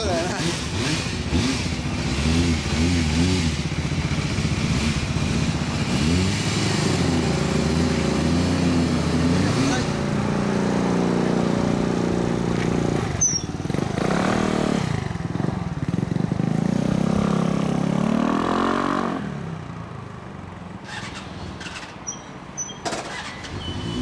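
A Suzuki Address V125G scooter fitted with a BMS aftermarket exhaust revs and idles nearby, its engine note rising and falling loudly before tapering off, with people chatting over it.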